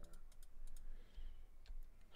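Typing on a computer keyboard produces faint, uneven bursts of quick key clicks, close to the microphone, against a quiet room background.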